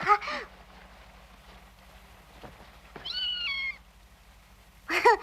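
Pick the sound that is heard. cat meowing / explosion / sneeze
cat meowing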